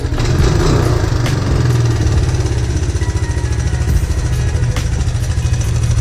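A Honda Big Red 200ES engine idles with a steady, loud, close chugging rumble and faint mechanical clatter throughout, with no voices.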